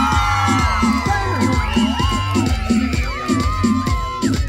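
An outdoor crowd at a countryside clown show shouts, whoops and cheers loudly over a steady, thumping music beat.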